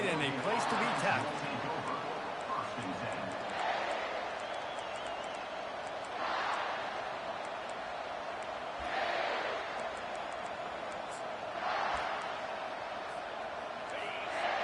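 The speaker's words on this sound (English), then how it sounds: "This crowd bringing the energy and noise early." A steady roar of video game stadium crowd noise at a South Carolina vs Oregon college football game, with surging swells every few seconds, while a commentator speaks over it.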